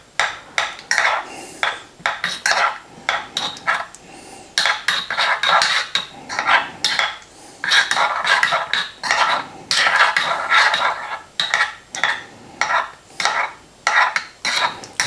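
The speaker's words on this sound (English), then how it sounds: "I'm going to get a teaspoon and just mix it up, make sure it all melts in there together perfectly" A teaspoon stirs melting chocolate into espresso in a cup, clinking steadily against the ceramic in quick bursts of rapid taps with brief pauses between them, close and fairly loud with no one talking.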